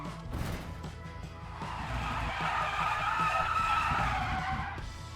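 Car tires squeal in the racing video game Wreckfest 2, a sustained, wavering screech rising over a low engine rumble and skidding noise, with a brief crunching hit near the start.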